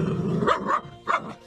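A Labrador-mix puppy gives three quick, high, close yipping barks in two bursts, with a short gap before the last one.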